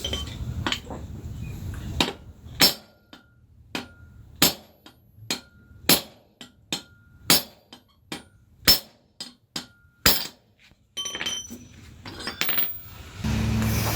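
A hammer strikes a punch to seat an ARP extended wheel stud on a 350z, about a dozen sharp metallic clanks in an uneven rhythm, loud and close, with quieter handling noise at the start and end.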